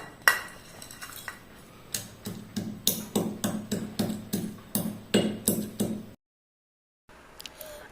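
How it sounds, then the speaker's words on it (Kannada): Black pepper, cloves and cinnamon are crushed with a steady run of sharp, close pounding strikes, about two per second, before the sound stops abruptly. "ಇವಾಗ ನಾವು ಇಲ್ಲಿ ಕಾಳು ಮೆಣಸು ಲವಂಗ ಮತ್ತು ಚಕ್ಕೆ ತಗೊಂಡಿದ್ದೇನೆ ಇದನ್ನು ಸ್ವಲ್ಪ ಕ್ರಷ್ ಮಾಡಿಕೊಳ್ಳುವ"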